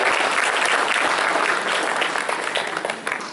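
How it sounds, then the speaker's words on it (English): Audience applause at a closing-remarks event, a dense burst of steady clapping that fills the space and gradually thins toward the end. "So I would like to give a big round of applause and thanks to all the audience here."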